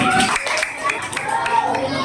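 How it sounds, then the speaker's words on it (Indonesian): Primary school children in a classroom clap for a group of classmates, a short burst of close, uneven clapping mixed with young voices. "beri tepuk tangan ke kelompok kelinci"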